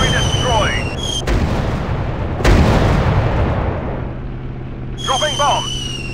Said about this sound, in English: Dropping bombs! Artillery down!